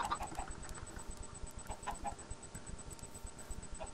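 Chicken clucking in Minecraft, a series of short repeated clucks over a soft steady background, moderately close and fairly quiet with no talking.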